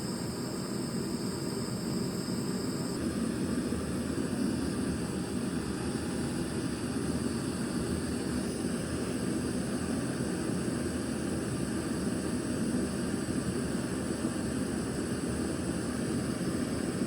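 A Light Max stove burns fuel in a steady, roaring hiss that holds constant at close range throughout, with no speech over it.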